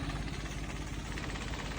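A Swaraj tractor pulling a 16-foot trolley runs steadily at a low, rumbling idle-like pace, a dense continuous engine drone with rhythmic low throbbing, close and unbroken throughout.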